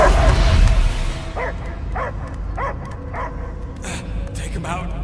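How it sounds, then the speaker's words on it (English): Dog barks and yips in the Guardians of the Galaxy video game, a run of short barks repeating every half second or so over a rumbling game soundscape, with voices talking underneath. "I hear only barking"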